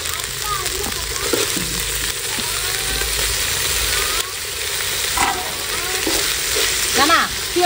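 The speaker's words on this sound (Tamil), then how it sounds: "இஞ்சி பூண்டு கூட வந்து நம்ம தக்காளியும் போட்டுக்கலாம்னா" Tomatoes go into a pan of frying ginger and garlic, with a steady loud sizzle and repeated scraping stirs throughout, while a voice talks faintly in the background.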